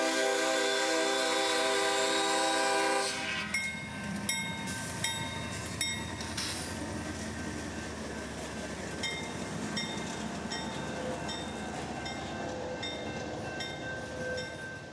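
A CSX freight train sounds its horn loudly for about three seconds, then keeps rumbling past with steady wheel and car noise and sharp rhythmic clanks, close and loud throughout.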